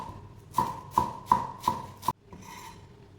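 Knife chopping fresh cilantro finely on a cutting board for a beef tendon stew topping: five sharp, evenly spaced chops close up, then the cutting stops.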